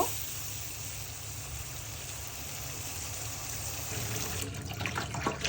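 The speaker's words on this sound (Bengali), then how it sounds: "এইভাবে বন্ধুরা তোমরা এইভাবে ভালো করে মাছ ধুয়ে নিবা" River aair fish being rinsed in a pot of water, with steady running and splashing water throughout, growing louder and more agitated near the end.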